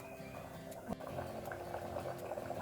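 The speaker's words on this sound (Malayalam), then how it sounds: "2-ാം പാൽ ഒഴിച്ച് നന്നായി തിളച്ച് വന്നിട്ടുണ്ട്." A tomato curry enriched with coconut milk simmers at a rolling boil, giving a dense close bubbling and gurgling with one brief knock partway through.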